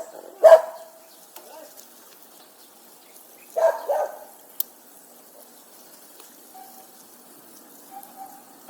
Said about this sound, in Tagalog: Ahon na. Kaso may aso.